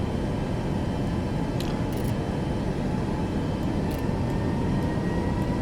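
A Ryanair airliner in Microsoft Flight Simulator 2024, flying the Skiathos rotation, gives a steady, loud engine roar with broadband rumble that runs unbroken throughout, with no talk over it.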